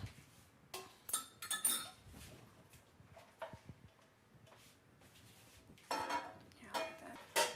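A spoon stirs chicken bouillon dissolved in water in a pot, making faint, scattered clinks and scrapes of metal against the pot in loose bursts, with quiet gaps in between.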